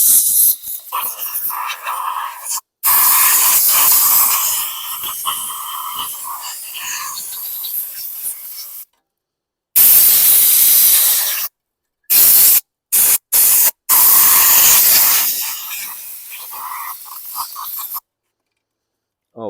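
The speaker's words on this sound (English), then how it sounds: "Okay, I need my air gun." A compressed air gun blasts debris off a 2016 Craftsman Platinum 725 lawn mower: loud, close hissing bursts of air, some long and some short, broken by abrupt pauses.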